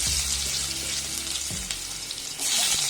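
Ginger pieces frying in a pan for a spicy hotel-style chutney, a steady bright sizzle with low hum underneath, briefly dipping midway and then swelling louder again near the end.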